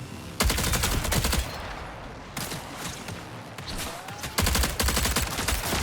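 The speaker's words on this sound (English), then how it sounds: "That's bad shooting right there." Gunfire in the video game Marathon: rapid bursts of automatic fire in three loud volleys, separated by short quieter gaps of ambient noise.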